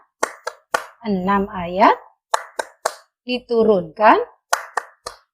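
Children clap their hands in a quick rhythmic pattern during a primary-school lesson on Surah An-Nas. Crisp claps alternate with chanted lines spoken by voices in between.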